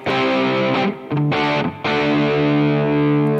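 Electric guitar played completely dry through a small amp on a pedalboard, a few strummed chords with brief gaps between them, the last chord ringing out, close and loud with no talk.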